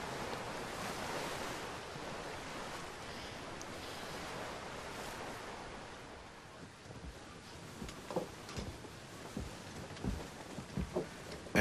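Rolling ocean surf on the Atlantic in Assassin's Creed III, a steady broadband wash of waves and wind that swells loudly, then thins out into scattered splashes and knocks near the end.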